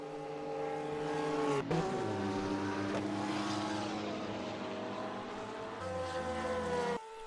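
GT3 race cars at the Daytona Road Course in a racing video game, sustained loud engine drone with shifting pitch as cars pass and change gear, alone without talk.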